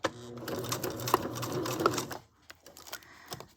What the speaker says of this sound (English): I should do a stitching here too.